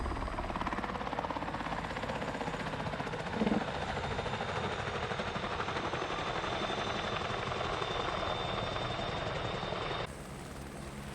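A helicopter in the X-Plane flight simulator gives a steady, loud rotor and engine drone with a broad whirring wash that holds for the full length and drops slightly in level near the end.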